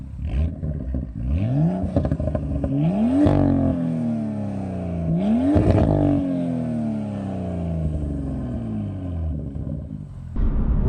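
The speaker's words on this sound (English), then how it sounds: "It's a really cool sounding exhaust" A BMW M2 with its factory exhaust drives along, the engine rising and falling through several loud, close gear pulls with a deep, raspy note and no talking over it.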